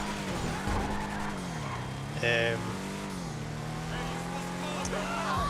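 A muscle car in GTA V drives with a steady engine drone and a brief tire skid, while someone talks over it throughout.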